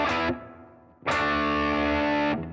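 The first main riff of the song rings out on a distorted electric guitar, one short struck note followed by a sustained chord that holds and decays, close and loud with no talking.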